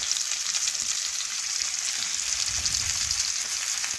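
Potatoes with onions fry in a pan, giving a steady, even oil sizzle that stays constant and close throughout, with a faint low stirring rumble partway through.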